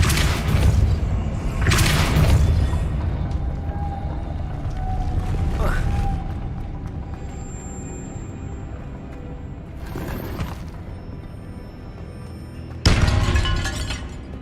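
Depulso spells are cast in the Hogwarts Legacy video game, several sharp crashing bursts with shattering and mechanical clatter spaced a few seconds apart, loud and close, between quieter stretches of ambient rumble.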